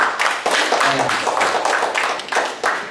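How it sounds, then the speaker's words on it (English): An audience at a show during the Edgerton Frontier Days festival breaks into loud, steady applause, with dense overlapping claps that swell and dip and continue without a pause for about three seconds. "Give her a big round of applause"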